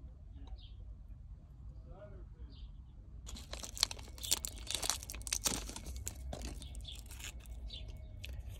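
Old adhesive being peeled off a BMW 328i F30 gear selector shift panel, quiet at first, then a dense run of close crinkling, tearing and crackling for several seconds.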